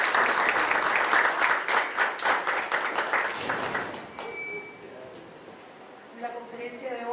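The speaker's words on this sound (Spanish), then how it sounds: "a quien lo recibimos con fuertes aplausos" Strong applause welcoming a guest lecturer at a law conference, a dense wash of clapping filling the room for about four seconds before fading into quieter murmurs and a voice.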